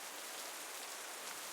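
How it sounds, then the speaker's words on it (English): Rain falling in the video game Dragon Age, a steady soft hiss of drops on surfaces, faint and even throughout with no speech. "I get it, because it's raining."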